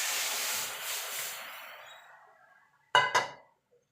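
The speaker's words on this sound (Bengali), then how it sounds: "এবার ডালটা ঢেলে দেবো।" Masoor dal poured into a pot of lightly stirred tomatoes, with sojne data (drumsticks) for the dish, gives a broad sizzling rush that fades over about two seconds, then falls quiet before two sharp, close metallic clinks.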